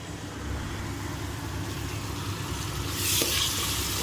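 Egg fried rice with soy sauce stir-fried in a hot pan, a continuous close sizzle with scraping stirs that grows louder toward the end.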